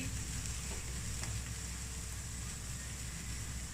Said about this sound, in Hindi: सब्जियां अच्छे तरीके से फ्राई हो चुकी हैं।